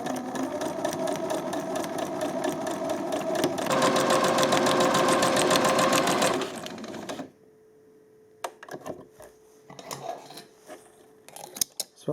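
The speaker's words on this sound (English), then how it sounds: "line it up, and then sew" A sewing machine stitching a French seam runs in a fast, steady mechanical chatter for about seven seconds, then stops, leaving quiet fabric handling and scattered small clicks.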